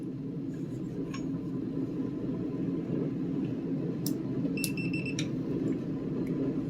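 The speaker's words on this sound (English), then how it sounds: "And you heard the beeps, so it's active." An RV door lock alarm gives a few short electronic beeps in quick bursts over a steady low hum, fairly close and clear.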